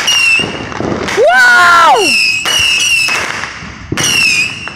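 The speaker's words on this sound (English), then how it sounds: "We're doing fireworks." Fireworks go off in a series of sharp bursts, with a loud rising-and-falling whistle in the middle, close and loud, while people exclaim and talk over them.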